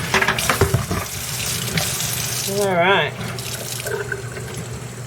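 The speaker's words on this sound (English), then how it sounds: "Gonna add some more water to the bucket." Tap water runs into a bucket while someone rinses out tie-dyed fabric, a steady splashing stream with a short spoken word over it.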